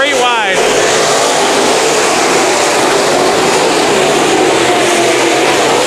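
IMCA Modified race cars running three wide at Bakersfield Speedway, tires spinning, make a loud, continuous wash of engine roar and broadband noise, with a brief rising whine at the very start.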